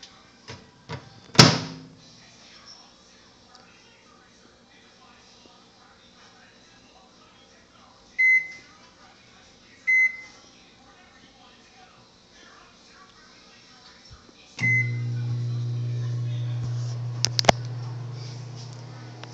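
A microwave oven opens with a sharp clatter, then two short beeps sound, followed by a steady low hum of the oven running, close and fairly quiet.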